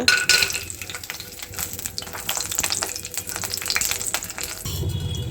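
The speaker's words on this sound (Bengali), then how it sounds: "এই যে গরম তেলে একটু বড়ি ভেজে নেব" Lentil dumplings (bori) frying in hot oil in a home kitchen while radish is being prepared, giving a steady, close sizzle with crackling bursts throughout and a louder splash of sizzle near the end.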